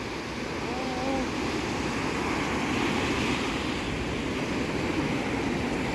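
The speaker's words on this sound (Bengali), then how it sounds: "অনেক ঢেউ আজকে সাগরে" Rough sea surf breaks on an Italian beach under stormy, cloudy weather, a constant loud wash of waves mixed with wind buffeting the microphone.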